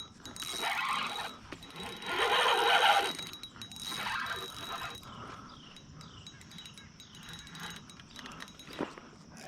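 A fishing reel's drag buzzes and ratchets as a big blue catfish pulls line, a steady mechanical whir rising and falling in bursts over outdoor background noise.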